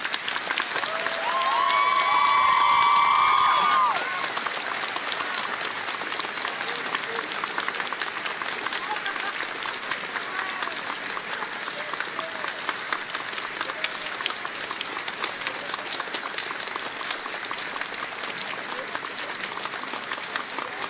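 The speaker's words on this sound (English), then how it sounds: "Everyone, please join me in giving our veterans a round of applause." An audience at a Veterans Day ceremony gives a long round of applause for the veterans, steady dense clapping from a crowd that keeps going for many seconds after a brief louder swell near the start.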